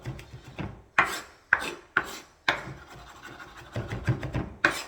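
A knife chops garlic on a wooden board at a steady, close rhythm of sharp individual strikes about half a second apart, with faint scraping between cuts and no talking.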